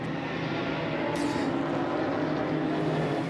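A race car with an LS3 engine, running in the Hankook 24H Dubai endurance race, produces a sustained, loud engine roar that holds steady throughout with no talk.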